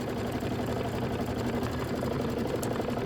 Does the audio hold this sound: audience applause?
no